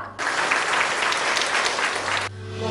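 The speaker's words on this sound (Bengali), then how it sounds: "একটা জোরে হাততালি হয়ে যাক" Audience applauding at a stage cultural program with classical dance performances, a steady dense burst of clapping that starts abruptly, holds for about two seconds, then cuts off.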